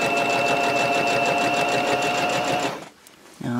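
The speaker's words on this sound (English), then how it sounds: "I will sew all the way around and leave an opening to turn it the other way around." A sewing machine sews steadily around the edge of a quilted microwave protector, a loud, close, even rattling whir that stops short, followed by a brief quiet and a small clunk.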